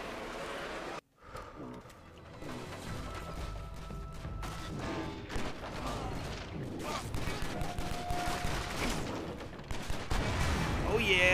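Gunfire and explosions in the action video game John Woo's Stranglehold, repeated shots and blasts building in intensity over a dense game soundtrack, with someone talking throughout.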